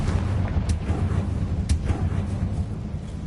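Casting the Confringo spell in the Hogwarts Legacy video game sets off a deep, rumbling blast that fills the whole moment, with a few sharp crackles on top of the low roar.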